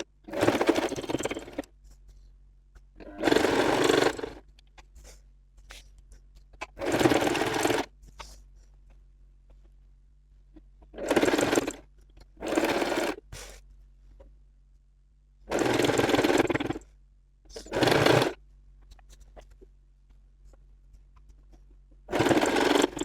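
A sewing machine stitches a pressed co-ord set garment, running in loud bursts of a few seconds each, about six or seven runs with quiet pauses between them and a faint low hum throughout.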